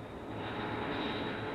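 A Fokker F-27 turboprop airliner powers up at the end of runway 06 to begin its takeoff roll, a steady broad engine roar with a constant high whine, rising slightly and holding loud and near.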